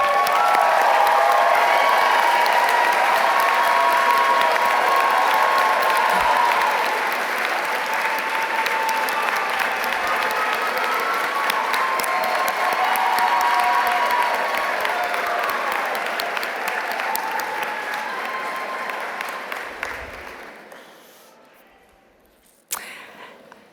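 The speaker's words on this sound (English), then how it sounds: "join me in a round of applause for your friends and family" A large audience at a university environmental design graduation recognition ceremony applauds friends and family, a dense sustained ovation of many hands that holds strong, then gradually thins and fades out near the end.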